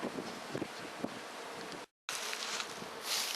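Bees buzz steadily around opened hives during a spring hive cleaning outdoors, a continuous insect drone with wind noise on the microphone and rustling, briefly cut by a short gap.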